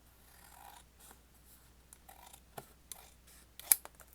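Scissors cutting through folded paper: quiet, close snips and soft rustling, with a few sharp clicks and one crisp cut near the end.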